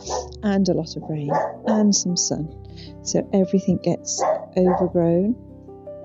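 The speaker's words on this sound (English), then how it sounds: "excuse my dog barking, I put them on the balcony because they can see me." A dog barks repeatedly from a balcony, sharp rhythmic barks scattered across the whole stretch, fairly close and loud, under and between someone talking about a garden.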